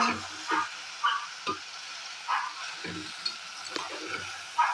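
Papaya, carrot, long beans and potato are stirred in a pan over the heat, with a soft sizzle and about a dozen scraping stirs in an irregular rhythm, fairly quiet and with no talking.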